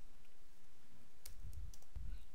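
A computer keyboard is typed on while writing Excel VBA code, giving a short burst of a few close, crisp key clicks over a low steady hum.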